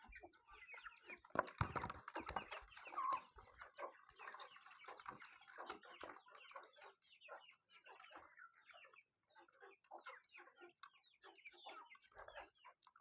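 Chickens and chicks cluck and peck at freshly made feed on a farm, with a rooster-like call and dense overlapping clucks loud at first, then busy scattered pecking and softer clucks close by.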